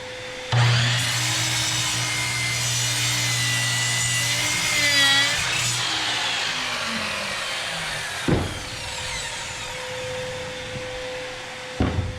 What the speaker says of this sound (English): First, got to turn on the vacuum.